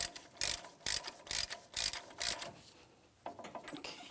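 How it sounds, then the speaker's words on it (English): Hand ratchet snugging the front axle nut on a 2007-2014 GMC Sierra 2500 HD, a run of loud, close bursts of clicking in a steady rhythm, then a pause and softer, quicker clicks with no talking. "Now when we tighten this axle nut, we have to do it by hand."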